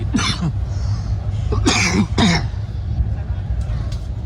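Several sharp coughs ring out nearby, one early and a pair close together, over a steady low background hum, aboard the Devagiri Express train.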